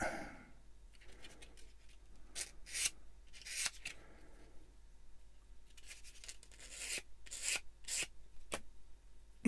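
A sander dresses up the plastic parts of a 1/144 scale Bandai Star Wars AT-AT model kit, heard as faint, soft rubbing and scraping strokes in short irregular bursts at close range.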